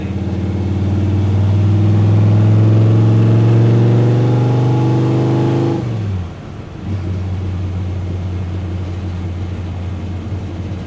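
A 1964 Dodge D100 pickup with a 528ci Hemi engine accelerates hard in a loud, steady, rising roar, then drops off briefly on a gear change and settles back into a lower, continuous drone.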